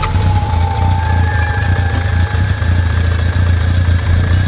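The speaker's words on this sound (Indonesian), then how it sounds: "mesin motornya nyala" A motorcycle engine idling steadily nearby, a low continuous rumble with even vibration throughout, loud and alone, with a faint tone drifting above it.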